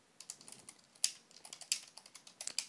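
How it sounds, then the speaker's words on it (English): Quick, light keystrokes on a computer keyboard, an uneven run of close clicks entering text, with no voice. "If I type in some text,"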